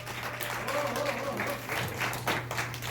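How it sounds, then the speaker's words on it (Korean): Applause at a political forum in Daegu on electoral reform, moderate clapping from an audience in a hall that rises and falls, with a steady low hum and some voices underneath. "큰 박수 부탁드립니다."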